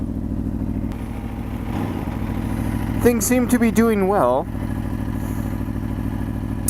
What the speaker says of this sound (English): So I thought, motorbike.